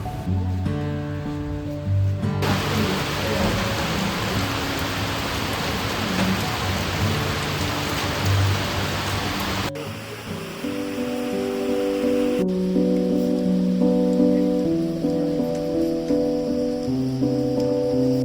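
Rain falling outside, a steady dense patter on surfaces with a deep rumble of thunder in the first part, continuing alone under a gentle musical backdrop.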